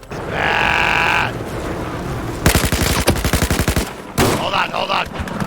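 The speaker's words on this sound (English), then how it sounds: "Taking heavy fire over here." Gunfire in the video game Battlefield 4: a rapid machine-gun burst of dense, evenly spaced shots, followed by more bursts, with a tonal game sound and a grunting voice mixed in.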